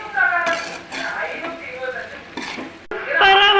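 Okra stir-fry with ground peanut and sesame powder being stirred in a pan: close scraping strokes and a soft sizzle, with a person talking over much of it.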